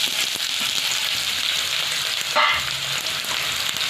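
Chopped onion fries in hot oil as tempering for a leafy greens bhaji, giving a steady close sizzle. A brief stir or splash about midway makes the crackle louder for a moment. No one speaks.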